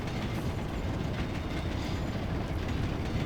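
A train running on rails in the video game Panzar, heard as a loud, steady rumbling clatter that continues without a break, with no voices.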